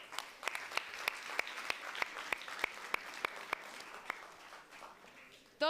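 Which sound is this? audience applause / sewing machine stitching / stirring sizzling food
audience applause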